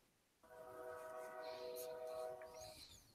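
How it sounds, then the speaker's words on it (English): A train sounds a sustained multi-tone horn blast for more than two seconds as it approaches, moderately distant, over faint rumbling background noise, with no talk. "I hear a train coming."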